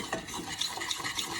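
A spoon swirling and scraping through a warm homemade deodorant mixture in a pot, a brief close stirring sound with soft rhythmic strokes.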